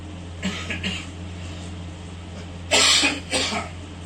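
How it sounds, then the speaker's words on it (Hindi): Two harsh coughs about a second apart, close and fairly loud, over a steady low hum, with a couple of softer throat sounds before them. "खांसी हो गई।"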